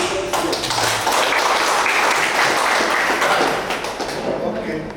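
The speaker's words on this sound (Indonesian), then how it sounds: "Tepuk tangan." An audience at the opening of a library ICT training session claps in unison, a loud, full burst of applause that swells and holds, with voices mixed in beneath.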